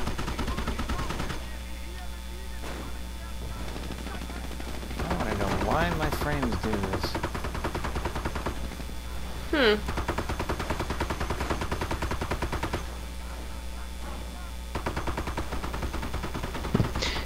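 Artillery and gunfire boom and crackle through a World War II video game battle, repeated rapid shots and blasts under excited commentary from players talking over the action.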